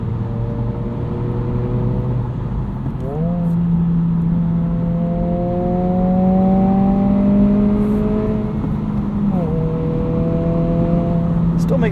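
Close in-cabin engine note of a 2022 Honda Civic Si during night driving, droning steadily and rising in pitch through gear changes with a brief dip between shifts, running continuously for the whole stretch.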